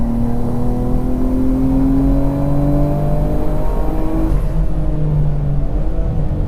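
Nissan Skyline GT-R on The Bend GT Circuit pulling hard out of a corner, the engine note climbing steadily in loud, close onboard revs before easing near the end.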